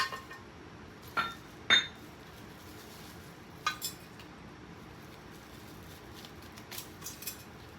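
Small metal clinks from the bar of a Harbor Freight 3-ton jack stand knocking against its ratchet teeth, a few sharp isolated taps spread over several seconds in a quiet room, close and fairly faint.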